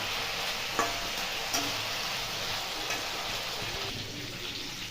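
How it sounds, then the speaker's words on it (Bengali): Cut potatoes and long moringa drumstick pieces fry in a pan with a steady, loud sizzle, with a few faint clinks of stirring and no voices. "সজনে ডাঁটা দিয়ে আলু অল্প করে ভাজবো"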